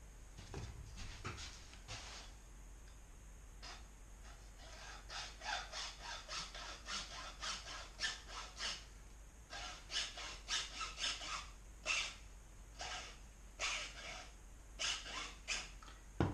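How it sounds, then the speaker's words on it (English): Hacksaw cutting through a PVC pipe recurve bow limb, steady back-and-forth rasping strokes in repeated bursts, close and moderately quiet with no talking. "especially when using the hacksaw, you keep this straight along the limb of the recurve"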